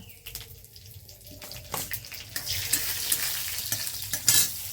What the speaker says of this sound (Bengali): সর্ষেটা ফুটতে শুরু করেছে বন্ধুরা